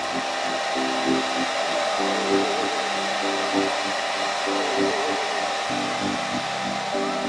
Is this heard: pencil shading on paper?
no